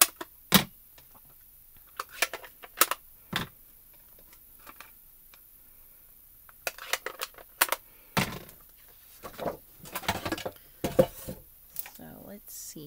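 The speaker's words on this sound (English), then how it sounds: "Let's cut it out. I have my triple banner punch here." A triple banner punch cuts through paper for a birthday card, giving a series of sharp clicks and clacks, some isolated and some in quick clusters, close-up in an otherwise quiet room.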